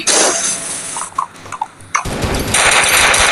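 Gunfire in the video game Deer Simulator, a quick rattling burst of shots followed by scattered mechanical clicks and then a dense, noisy stretch of sustained firing, close and loud with no talking.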